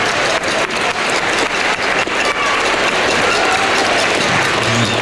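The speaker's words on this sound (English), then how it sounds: "Please give a round of applause for all of our parents and family members" Sustained audience applause for parents and family members at a school winter band concert, dense and even clapping from a large crowd filling the whole stretch.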